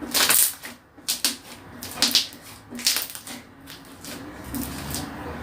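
Homemade borax-free slime is pressed and stretched, giving a run of sharp, close clicks and crackles in irregular bursts, loudest early on and softer toward the end.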